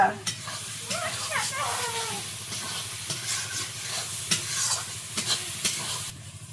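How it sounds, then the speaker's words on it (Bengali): Spice paste with Kashmiri chilli powder sautés in a pan for a duck curry, giving a close, steady sizzle with stirring scrapes and faint background voices. "মশলাটা ভালো করে কষিয়ে নেবো"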